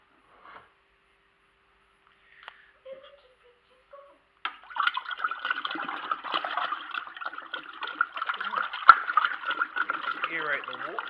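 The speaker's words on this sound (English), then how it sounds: "Aerate the water so the yeast has got some oxygen" Water for beer wort is splashed and churned to aerate it during home brewing: a few faint drips at first, then continuous busy splashing and sloshing close by.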